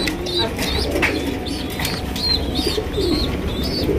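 A pair of beauty pigeons at a pigeon farm coo in repeated soft, rolling calls, close by over a noisy background with a few light chirps.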